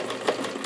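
A sewing machine stitches a small doll's rose dress, giving a brief, steady mechanical whir with a soft rapid needle rhythm, close by and alone.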